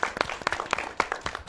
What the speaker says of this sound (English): I think we need to give her a hand clap